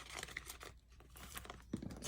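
Paper dollar bills rustle and crinkle as they are shuffled by hand for cash stuffing, a few close, quiet flutters and crisp rubs with a short pause in between and no talking.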